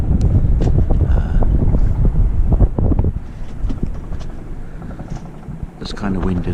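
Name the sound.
southerly wind blowing on a sailboat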